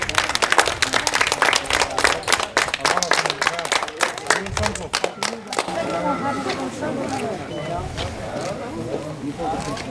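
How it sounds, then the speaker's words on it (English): Wedding guests at a Traveller ceremony burst into loud, rapid clapping and cheering for the newlyweds, dense close applause that thins into scattered claps and crowd chatter, with voices talking over it. "if we can have a very loud clap and a cheer, please, for the new Mr."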